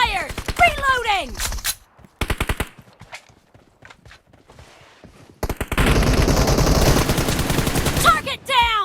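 Rapid automatic gunfire rattles through a video game firefight in loud, dense bursts, with short in-game voice callouts at the start and a quieter stretch before a long, sustained volley.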